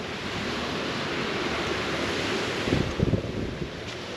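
Ocean surf rolls onto a Central Java beach under rainy, stormy conditions, a steady broad wash of waves with heavy wind buffeting the microphone and a few low thumps near the end.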